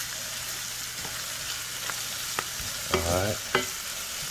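Meat sauce with added seasoning sizzles and fries steadily in a pan while being stirred, with a few scraping clinks and one brief spoken word.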